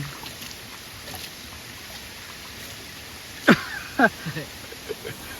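Water runs across a forest road on the way to Kapilash, giving a steady, close rushing wash with no talk and a few brief chirps near the end.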